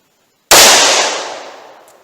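A single sharp, loud gunshot from a Taurus 605 .357 Magnum revolver with a 2-inch barrel firing PMC Gold Starfire ammunition cracks after a short silence, then decays over about a second and a half.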